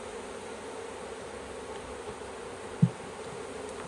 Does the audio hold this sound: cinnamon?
no